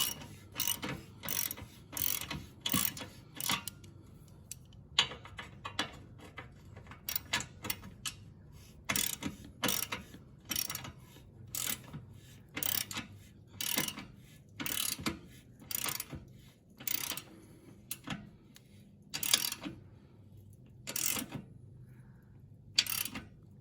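A 9/16 ratchet wrench tightens an exhaust bolt on a touring Harley, giving repeated bursts of sharp ratcheting clicks in short, uneven runs with brief pauses, close and clear with no talking.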